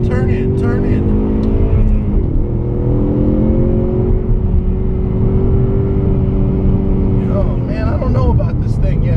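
A 2015 Ford Mustang EcoBoost is driven hard on a track, its engine loud and close, climbing steadily in pitch as it revs toward the redline, with a brief dip around a shift, while someone talks over it.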